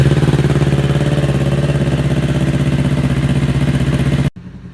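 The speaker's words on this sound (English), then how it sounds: "The first step would be to start the bike, warm up the engine." A Kawasaki Ninja 400 motorcycle engine idling while it warms up, a loud, steady close-up putter with an even pulse that cuts off abruptly near the end.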